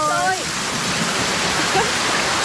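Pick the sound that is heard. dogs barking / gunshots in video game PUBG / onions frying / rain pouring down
rain pouring down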